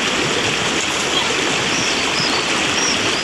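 Floodwater pours like a waterfall during a heavy downpour in Sinegorsk, where building entrances flood and the storm drains are clogged. The rush of water is loud, close and continuous, and it holds steady with no break.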